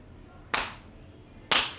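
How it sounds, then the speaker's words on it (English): Two sharp hand claps about a second apart, crisp and close in a quiet room, kicking off a live whisky distillery podcast. "Clap us in."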